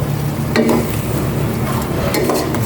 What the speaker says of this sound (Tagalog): Nagisa ko na itong maigi.